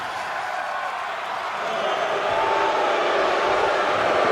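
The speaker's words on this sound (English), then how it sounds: "Listen to the crowd booing him." A wrestling crowd at a pay-per-view title match boos steadily, a broad sustained roar that grows louder toward the end.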